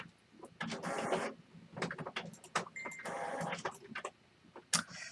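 A home printer running a print job during a crafting session, giving bursts of whirring and mechanical clacking with short pauses between them. There is no talk.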